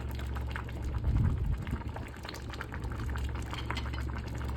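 Vegetable khichuri of rice and mixed vegetables bubbling in a pot, with a steady, close simmering and boiling sound that continues for the whole clip.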